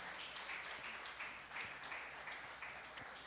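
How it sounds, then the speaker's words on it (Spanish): Scattered applause from a church congregation honouring women at a Mother's Day service, soft and distant, a continuous wash of clapping for a few seconds. "¿cuántos le dan un aplauso a las mujeres?"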